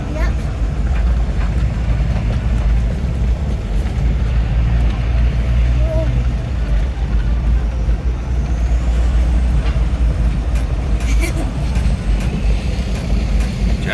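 A car rumbles slowly through the busy streets of Antigua, Guatemala, with loud steady road and engine noise throughout and people talking over it.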